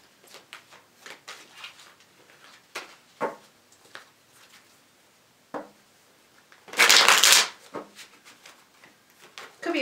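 A deck of tarot cards being shuffled, with a series of soft rapid riffles and taps building to one loud dense burst of cards, then quieter handling.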